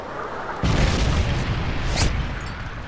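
A Predator missile strike explodes in Modern Warfare 3 multiplayer gameplay, a sudden loud boom that rolls into a sustained, noisy rumble with a sharper crack near the end.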